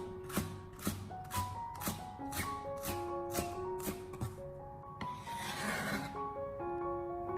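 A knife chops green onions into small pieces on a cutting board: about eight crisp, evenly spaced close chops, then a brief scraping sweep and a few more light taps, with no talking.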